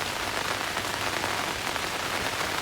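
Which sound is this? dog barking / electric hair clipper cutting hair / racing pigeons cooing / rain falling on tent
rain falling on tent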